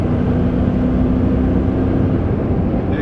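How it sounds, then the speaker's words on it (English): A Landcruiser 200 Series V8 fitted with a PPD performance exhaust accelerates hard, its deep, loud, steady engine roar and exhaust drone filling the space close by, with no one talking. "there's that V8 noise we all love."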